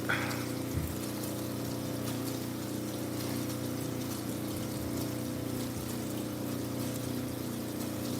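Water runs and drains from a gem-cutting pan during the cutting and polishing of Utah green garnet, a steady low gushing wash that carries through the whole stretch with a brief splash near the start and no talk.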